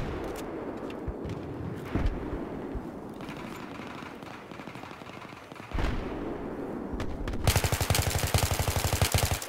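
Gunfire in the video game Battlefield 3 crackles in bursts, with single shots and rapid automatic fire, ending in a loud, fast stream of shots.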